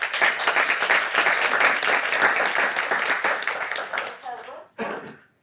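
A school board meeting audience breaks into dense, sustained applause for a teacher, loud and steady for about four seconds before it tapers off, ending in a short final burst.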